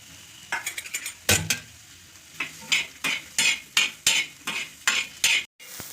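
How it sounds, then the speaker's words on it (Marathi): Onions being fried in oil in a pan for a dhaba-style aloo matar dish, heard as a series of sharp stirring scrapes and sizzling bursts repeating at a steady pace, fairly close with no talking. "याच्यानंतर कांदे टाकून घेऊया याच्यामध्ये हे कांदे भाजून घेऊया आपण"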